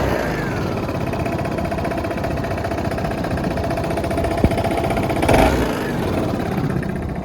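A Honda Forza MF08 scooter with a faulty driven pulley sensor revs with its rear wheel not turning, giving a steady buzzing mid-pitched engine drone with a slight swell near the end, recorded close by.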